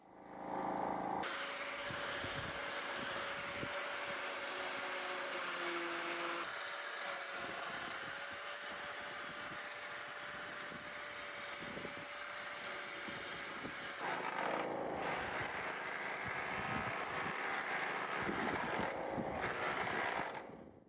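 Angle grinder fitted with a mortar rake cutting into brick mortar joints, a loud, steady high-pitched whine and grinding roar that runs almost nonstop at close range, with small shifts in pitch as it bites.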